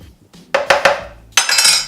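A big spoon scoops roasted cauliflower into a Vitamix blender container with several sharp clinks and scrapes against the jar, close and alone, followed by a brief rustling scrape.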